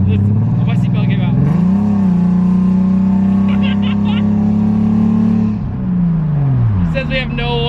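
A loud Nissan 300ZX engine with a misfire runs close by, revving up, holding a rough, heavy drone and then dropping back, while people talk over it.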